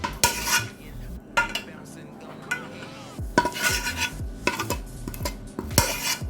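A metal utensil scrapes and clanks against a pot, pulling out the last of cheesy noodles for a smoky bacon mac and cheese, with loud repeated knocks and scrapes up close and no speech.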